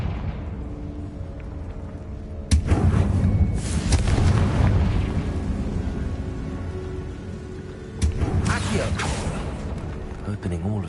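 Two booming explosions from the Confringo blasting spell in a video game, one early and one later, each a loud, close burst that rumbles and decays against a steady ambient bed.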